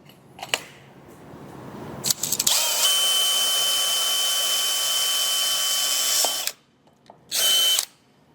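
A power drill whirs steadily for about four seconds as it bores through a metal tube extrusion of an overfill prevention valve, stops, then gives one short final burst.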